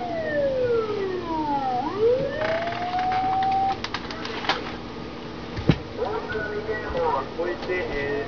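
Sirens of fire engines and emergency vehicles rushing toward a port ahead of a tsunami after a strong earthquake in Japan, wailing up and down and passing close by, with bird calls and a brief thump in the background.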